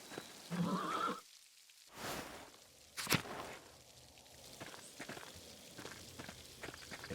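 A horse in the video game Pentiment gives a short whinny at the start, followed by soft scattered hoof and footstep sounds and a couple of sharp knocks, fairly quiet overall.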